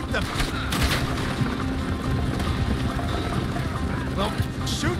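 Gunfire in a Wild West video game, rapid overlapping shots crackling through a constant, dense din of action noise, with voices mixed into the clamor.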